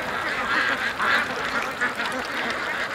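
A large crowd of ducks quacks continuously from a pen near water, with overlapping calls and a dense chorus that swells and fades a little over its brief length.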